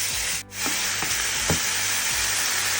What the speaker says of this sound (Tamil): இது எல்லாத்தையும் போட்டு சும்மா லைட்டாக நம்ம வதக்கி வச்சுக்கலாம்.